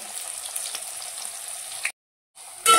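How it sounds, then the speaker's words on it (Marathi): Onion and curry leaves fry in a hot pan with a steady, bright sizzle close by. It breaks off briefly, then returns and flares louder at the end. No one speaks. "कांदा चांगला लाल होईपर्यंत भाजून घेऊया"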